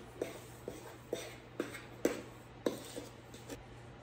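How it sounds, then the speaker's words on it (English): A whisk or spoon taps against a bowl while dry cupcake batter with cocoa, baking soda and salt is mixed, about eight soft, evenly spaced clinks over a faint steady hum. "a teaspoon of baking soda, a ½ teaspoon of salt, and mix it up"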